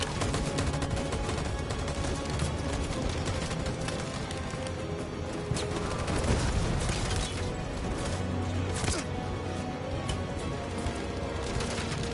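Sustained volley of gunfire in the video game Detroit: Become Human, dense overlapping shots and crashes forming a loud continuous barrage for the whole stretch, no speech.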